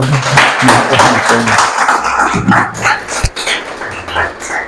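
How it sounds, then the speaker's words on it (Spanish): A church congregation claps during a sermon. The applause is loud and close, with voices calling out over it. "Dale un aplauso al Señor."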